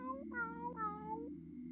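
A cartoon space cat in the burger-cooking video game Galaxy Burger gives three short, clear meows in quick succession over a soft, steady game background hum.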